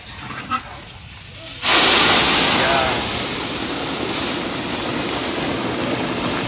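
Dal tipped into whole spices and bay leaves frying in a large pot for a 250-person village feast, bursting into a loud, sustained hiss and sizzle that starts abruptly and keeps roaring steadily, with no talk over it.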